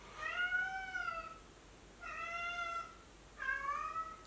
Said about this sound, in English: That's my fur baby cat, if you can't tell.